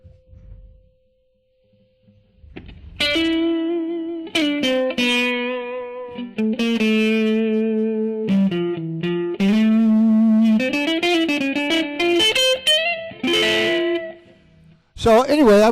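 A gritty, distorted Hammond organ through a recapped AO-43 Hammond tube power amplifier plays sustained chords that shift in pitch, loud and saturated, with brief pauses between phrases.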